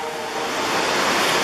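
Steady roar of rushing water from Chittenango Falls, a large waterfall in a New York state park in winter, heard as a continuous broadband wash filling the short stretch without any voices.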